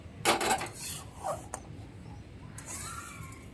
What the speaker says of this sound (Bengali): কড়াইটা আবার বসিয়ে দেবো